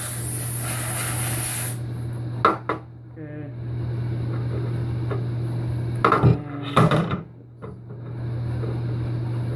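Cleaner sprayed onto a car's electric throttle body, a loud hissing burst at the start followed by a few shorter sprays, with clicks and handling noise and a constant low hum underneath.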